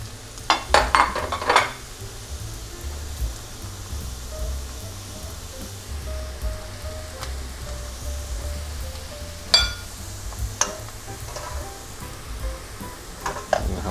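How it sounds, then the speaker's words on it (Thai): Rice vermicelli noodles drop into hot oil for crispy noodles with a burst of sharp crackling, then settle into a steady low sizzle and bubbling, with a few more crackles as they fry. "ใส่ลงไปทอดนะครับ"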